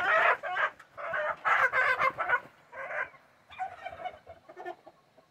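A free-range chicken clucks and squawks in agitated, rapid bursts while being handled up close, its calls coming in several loud runs before trailing off into softer clucks.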